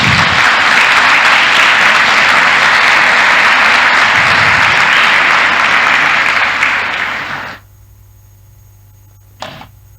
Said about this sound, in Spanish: Si es así, aplauda al Señor